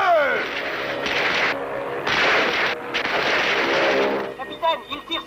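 Gunfire in the animated Tintin film L'étoile mystérieuse: a loud, dense, continuous rattle of shots and blasts with brief gaps, mixed with the film's soundtrack and possible voices.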